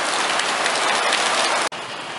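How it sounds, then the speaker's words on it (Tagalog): Heavy rain pours down on a school grounds in a dense, loud, steady hiss of drops on hard surfaces, cut by a brief dropout near the end before resuming. "Lumakas ang ulan"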